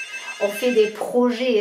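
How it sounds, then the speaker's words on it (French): A landline telephone rings indoors with a bright electronic trill under someone speaking, its tones repeating in short bursts close by. "excusez-moi pour le téléphone qui sonne"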